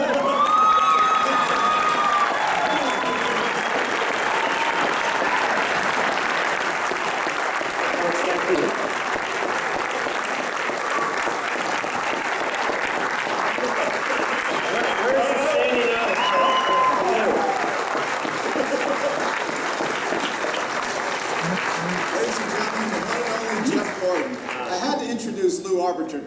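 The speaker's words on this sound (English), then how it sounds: "you wouldn't be standing clapping for me" Standing audience applause for NASCAR driver Jeff Gordon at a PepsiCo event, loud and sustained for about 26 seconds, dense clapping mixed with scattered cheers and crowd voices.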